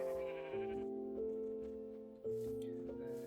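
Sheep bleating in Minecraft, several wavering bleats in sequence, clear and close, with a short gap between the first calls and a renewed pair near the end, alone without talk.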